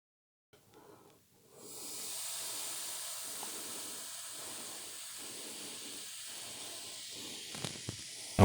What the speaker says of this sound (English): that's where you know you're dealing with a strong chemical reaction between vinegar and baking soda